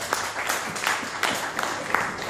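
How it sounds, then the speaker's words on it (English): An audience claps steadily at a mind power seminar during Edu Expo 2016, a dense, even patter of many hands filling the room for a couple of seconds with no talking over it. "Give them a big round of applause."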